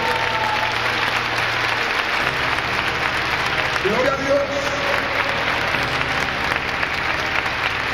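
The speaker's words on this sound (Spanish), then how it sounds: "Dale un aplauso al Rey." Church congregation applauding during a worship service, a steady broad wash of clapping under a voice speaking over it, with crowd noise throughout.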